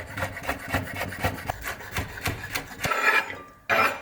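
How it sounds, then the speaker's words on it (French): Celery is sliced with a knife on a board in a brisk run of crunchy cuts. After a short pause, a final louder cut lands near the end. "On va émincer aussi le céleri."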